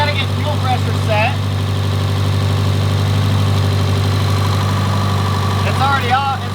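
A built big-turbo Subaru WRX STI idles just after its first start, a steady deep rumble that holds without change, with voices talking faintly over it near the start and end.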